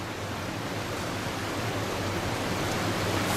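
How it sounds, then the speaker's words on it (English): Rushing water roars in a steady, loud, broadband wash that stays unbroken from start to finish, with no voices over it, somewhere in north central Alabama. "I hope you guys can hear me over the roar of this water"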